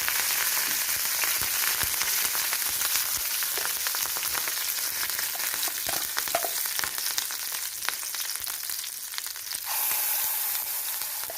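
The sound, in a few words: curry leaves sizzling in hot oil in a pan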